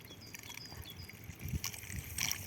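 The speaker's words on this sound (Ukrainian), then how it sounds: "і чуємо характерний звук смоктування." Water being sucked into a pipe makes a low gurgling, sucking trickle that swells up after a quiet stretch, with bubbly bursts near the end.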